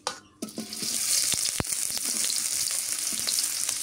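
Green chili and onion hit hot mustard oil with a burst of loud sizzling that settles into a steady, close crackle, with a few utensil taps.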